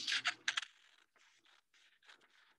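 Scissors snip through paper while a rainbow shape is cut out freehand for a paper cone craft, with a few loud crisp cuts at first, then quieter rustling snips, close and alone.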